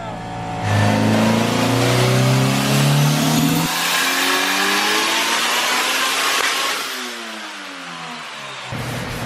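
A 2.5-liter naturally aspirated K-series Honda hatchback screams on a dyno, its engine note climbing steadily through the revs, easing briefly, then rising again before dropping off; the sound is loud, close and continuous.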